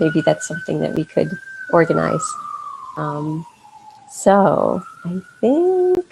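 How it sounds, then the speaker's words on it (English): A siren wails steadily in the background while a person talks over it in the foreground. "I apologize for the sirens in the background."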